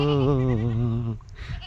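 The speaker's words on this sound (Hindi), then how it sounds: "बकरी गया म्या म्या करती है" A goat on a village farm gives one long, wavering, nasal bleat lasting just over a second, loud and close, followed by faint background noise.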